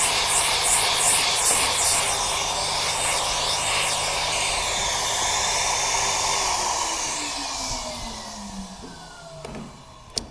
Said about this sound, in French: Je repasserai un coup d'aspirateur quand elle sera à plat, quand la coiffe sera à plat.